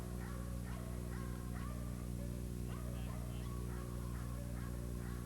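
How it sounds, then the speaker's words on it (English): Aggressive dog growling and snarling on an old VHS recording, short repeated vocal bursts over a constant low mains hum and tape hiss, moderately loud and close. "This dog is more aggressive, growling and baring his teeth"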